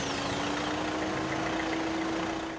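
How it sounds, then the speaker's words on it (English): The UW EcoCar hybrid car's engine runs close by with a steady droning hum and a constant buzzing tone, holding level and then easing off slightly at the end. "Though it sounds like a lawnmower with asthma, the UW Eco Car"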